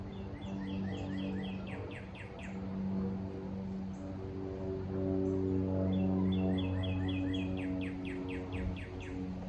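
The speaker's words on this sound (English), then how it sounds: "the birds are messing it up" Birds chirp in repeated bursts of high, quick notes over a steady low hum, with one burst at the start and another in the latter half.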